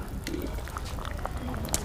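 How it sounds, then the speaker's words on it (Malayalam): A chempalli fish curry base boils in a clay pot, with busy bubbling and scattered small pops and gurgles over a low background murmur, close and moderately quiet. "അടിപൊളിയായിട്ട് തിളച്ചിട്ടുണ്ട്"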